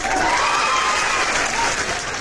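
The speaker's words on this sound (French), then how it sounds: "C'est bon, on applaudit." A crowd applauds steadily, a dense wash of clapping that holds at an even, loud level throughout.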